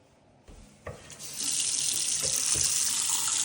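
A tap is opened at a sink in a house and water gushes out with strong pressure, a few handling knocks first, then a steady loud rushing stream.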